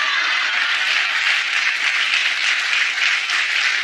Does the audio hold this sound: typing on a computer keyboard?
no